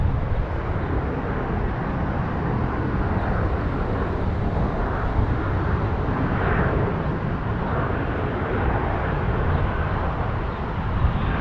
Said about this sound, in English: And just on time, we get a 717 hitting the runway.